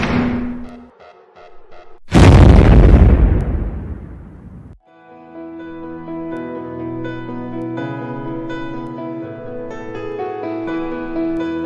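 A cartoon nuclear explosion erupts as a huge, loud roaring blast that swells suddenly and rumbles for about two seconds before cutting off, preceded by quieter tones and followed by sustained orchestral music.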